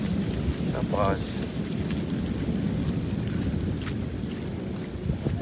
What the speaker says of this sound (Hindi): थोड़े वक्त में ही काफ़ी ज़्यादा बारिश हो गई है